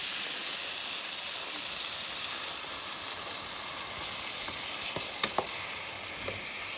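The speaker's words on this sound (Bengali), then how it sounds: "তার মধ্যে হচ্ছে ডালটা, মুগ ডাল দিয়ে দিচ্ছি।" Moong dal sizzles in a hot pan for khichuri, a dense, steady frying hiss with a few brief clicks of stirring near the end and no talking.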